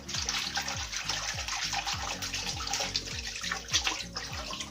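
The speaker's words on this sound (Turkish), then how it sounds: "Böyle zaten tersine suya batırdın mı su aralarından geçiyor." Grape leaves are dipped and swished through water, giving a continuous close splashing and sloshing with repeated rhythmic plunges, with no talk over it.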